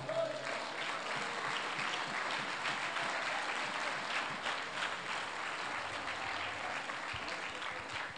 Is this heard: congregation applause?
yes